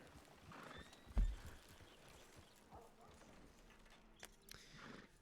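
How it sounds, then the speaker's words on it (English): A horse in the RedM game gives a short whinny and its hooves clip-clop quietly on the ground, with a sharp thud near the start and a few soft steps afterward, all fairly faint and with no one speaking. "Wow, fine horse there."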